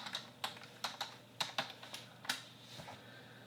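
Keystrokes on a computer keyboard at a Windows 10 desktop, about a dozen sharp, close clicks in an uneven typing rhythm with short pauses, alone in a quiet room.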